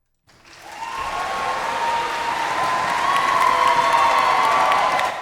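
Applause tracks from an audio mix: a crowd clapping and cheering that swells in from silence to a full sustained roar over several seconds, with no speech.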